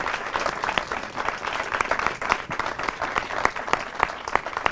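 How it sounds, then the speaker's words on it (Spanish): An audience at a heritage conference breaks into moderate applause for the mayor, a steady patter of individual claps from a mid-sized indoor crowd, fairly close and continuous. "quiero pedir un aplauso para el alcalde, por favor"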